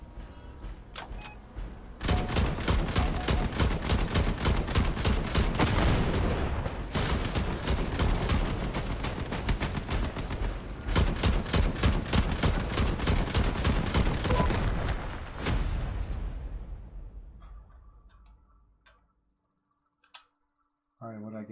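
Gunfire in the vehicle combat game Crossout, with long sustained bursts of rapid, evenly spaced automatic shots, loud and close, broken by short pauses and ending in quieter interface sounds.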